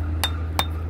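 A bricklayer's brick hammer strikes brick while cutting a preformed stepped tray in brickwork, two sharp separate knocks about a third of a second apart over a low steady hum.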